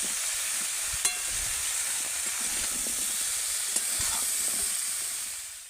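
Vegetables for shukto frying in a pan, a steady broadband sizzle and hiss running throughout with a few small pops and stirring clicks, close and even in level.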